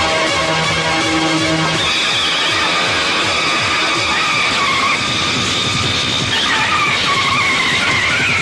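Racing motorbikes in a Bollywood film action scene, one with a faulty axle that comes loose, roar past as engines whine, with loud rising and falling revs and screeching skids throughout, and no voices.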